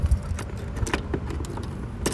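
A big bunch of keys jangles in the rear hatch of a 1982 Datsun 280ZX, with repeated close metallic rattles and clinks over a low background rumble.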